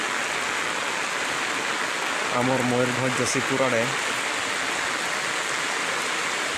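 Heavy downpour in Jashipur, Mayurbhanj, Odisha: a dense, steady hiss of rain fills the whole stretch while someone speaks briefly over it partway through.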